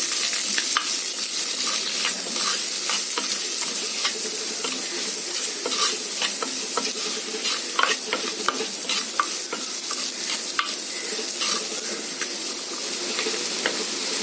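Vegetables for moong dal khichdi sautéing in a pan, a steady frying sizzle broken by frequent scraping clicks of a spoon stirring against the pot, close and continuous, with no voices.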